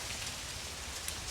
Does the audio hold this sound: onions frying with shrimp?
no